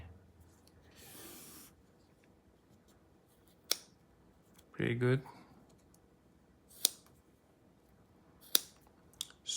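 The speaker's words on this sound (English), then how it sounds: "I'm gonna see if I can cut a string." Small Roxon mini flex scissors snip through a string, a short crisp cutting burst close by, followed by a few faint isolated clicks in a quiet room, with a brief spoken remark.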